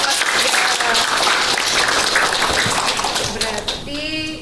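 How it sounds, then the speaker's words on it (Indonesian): Classroom of students clapping for their class, Pega, a steady dense patter of hands filling most of the moment before tapering off, with a brief voice at the end. "Tepuk tangan dong untuk kelas Pega."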